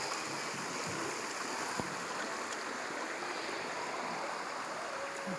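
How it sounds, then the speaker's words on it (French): Steady, even rush of the Les Arbres river flowing outdoors, a continuous broadband wash of water at moderate distance with no voices over it. "C'est la rivière Les Arbres."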